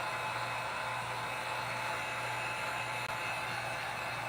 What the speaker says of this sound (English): I prefer using the heat gun over the torch just because there's more control